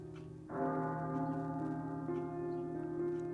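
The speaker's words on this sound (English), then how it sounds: "The bell continued to clang" A bell clangs and then rings on steadily, its deep resonant tone sustained and moderately loud, with no voices over it.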